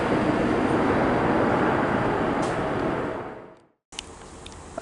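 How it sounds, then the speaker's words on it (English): A Transpennine Express liveried class 68 locomotive passing through Stockport on a test run from Crewe to Manchester, a loud broadband rush that fades away, then a sudden gap and a fainter resumed rumble. "passing through now we have a Transpennine Express liveried class 68, passing through on a test from Crewe to Manchester"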